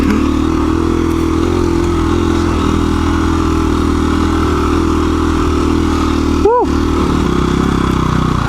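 A KTM 350 EXC-F dirt bike rides a single-track trail, its engine holding a loud, steady drone. A brief rising whine sweeps past near the end.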